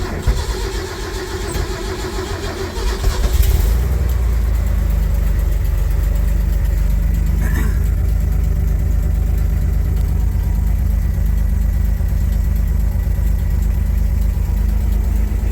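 1967 Ford Econoline van engine cranking briefly, catching loudly, then settling into a steady, even idle heard from inside the cab with no talking.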